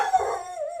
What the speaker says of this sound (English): Don't bark, please.